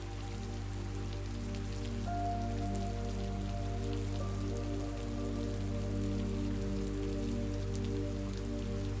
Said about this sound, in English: listen to the rain fall